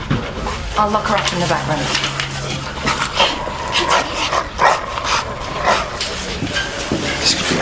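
A dog barks and whimpers in a police station drama scene, short excited yips and bow-wows scattered under a voice and background clatter.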